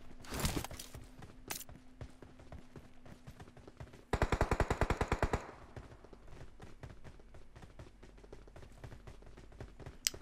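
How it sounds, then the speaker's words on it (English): Gunshots in PUBG Mobile, with one rapid automatic burst of about a dozen sharp cracks in quick succession, preceded and followed by scattered single distant shots. "I heard shots"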